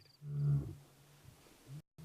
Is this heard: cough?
no